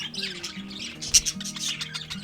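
Short bright squawks and chirps from a pet cockatiel at a rescue in Tenerife, close and fairly soft, with a sharper call near the middle.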